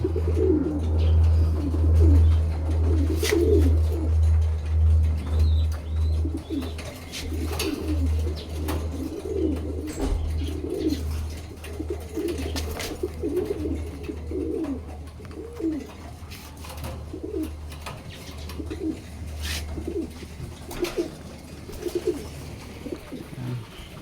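Young pigeons cooing nearby in a loft, a steady run of soft, low, rolling coos repeating throughout, with occasional faint chirps and no speech.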